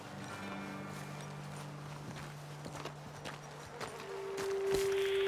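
Horses walk at an easy pace in the video game Red Dead Redemption 2, their hooves giving soft, irregular clip-clop steps on the ground amid quiet outdoor ambience and a rising whine near the end.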